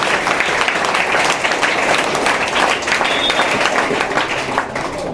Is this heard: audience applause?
yes